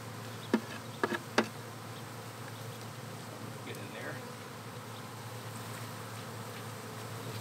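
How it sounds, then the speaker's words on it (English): Honeybees buzzing around an open-air hive being removed, a steady low hum of many insects close by, broken early on by three sharp knocks. "400 bees back there."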